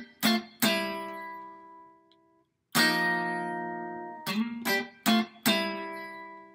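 Guitar riff of a song, played as plucked clean notes and short chord stabs with gaps between phrases, close and clear with no voice over it.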